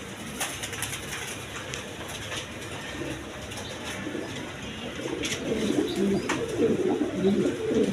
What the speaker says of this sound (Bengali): এখানে এক পেয়ার কবুতর আছে সিরাজি লাহোরি ক্যাটাবের